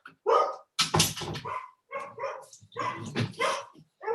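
Several dogs bark in short irregular bursts, some yips mixed in, fairly close and loud, heard indoors during a remote committee meeting.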